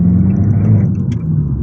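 An Abarth hatchback accelerating hard in second gear through a corner, a steady, loud low engine drone and rumble held close throughout with no talk.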